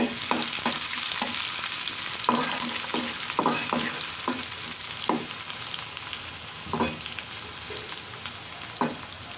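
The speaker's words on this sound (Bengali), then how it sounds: "পেঁয়াজগুলোকে আমি হালকা লাল লাল করে ভেজে নিয়েছি।" Chopped onions frying in oil to a light reddish brown, a steady close sizzle broken by repeated light scraping and stirring strokes at an uneven pace.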